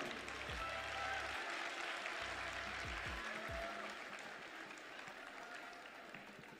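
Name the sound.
audience applause welcoming the Miss Togo committee president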